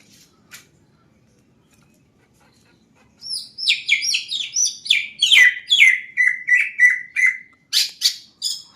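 A green leafbird, wet after its bath, bursts into a long run of rapid, bright chirping and whistled song phrases after a quiet start, close and clear with no talking.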